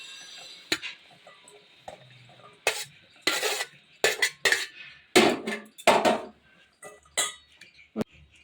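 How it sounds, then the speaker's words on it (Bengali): Slit green chillies tumble into a metal mixing bowl in uneven bursts of clattering, clinking knocks, some louder and some softer, with short quiet gaps between them. "এখন আমি একটা গামলা নিয়েছি গামলার মধ্যে লঙ্কাগুলি ঢেলে দিচ্ছি"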